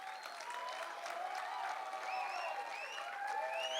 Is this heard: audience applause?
yes